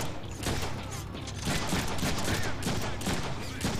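Gunfire in the Deadpool video game, a dense continuous fusillade of rapid shots at moderate loudness with no clear pauses.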